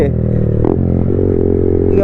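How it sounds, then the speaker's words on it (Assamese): A loud Yamaha MT-15 motorcycle engine drones close up with a heavy, throaty aftermarket exhaust silencer, steady and rumbling throughout. "যিটো চাউণ্ড লাউড হৈ আছে না বাইকৰ একদম"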